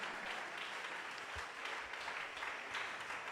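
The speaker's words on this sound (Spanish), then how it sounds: "¿Quién aplaude fuerte, fuerte al Señor Jesús con su alegría" A church congregation claps during an evangelical sermon, a continuous, faint wash of applause heard from a distance with a few low thumps.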